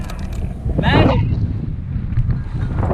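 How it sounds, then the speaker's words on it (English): Wind gusts buffet a microphone high in a tall tree on a windy day, a rough, blustery rush that swells around the one-second mark and keeps roaring beneath the steady noise. "what do you think about that wind, bro?"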